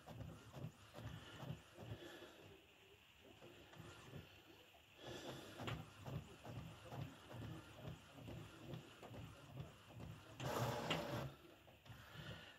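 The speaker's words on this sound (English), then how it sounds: "it's printing." An Epson Expression Premium XP-6000 inkjet printer printing quietly, with repetitive mechanical shuttling and whirring in a steady rhythm and a brief louder hiss near the end, faint and heard alone.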